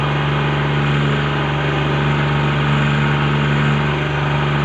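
A tractor engine idles steadily at a tractor tug-of-war event in Fatehabad, a loud, continuous low rumble with a strong hum and no talk over it.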